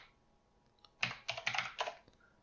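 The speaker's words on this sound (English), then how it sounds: "I'm just going to type the names" Quiet keys clatter on a computer keyboard in a short burst of about eight quick strokes, fairly close, after a near-silent start.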